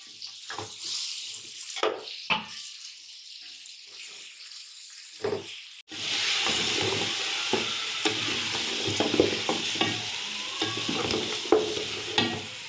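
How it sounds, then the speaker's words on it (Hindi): Beef trotters stirred into a tomato masala in a pot: a few clattering knocks and scrapes, then a loud, steady sizzle of frying from midway on, broken by repeated spoon scrapes and clinks, with no talking. "अब हम इसमें पाए जो थे हमारे पास वो इसमें ऐड कर लेते हैं और इनको हिला लेते हैं"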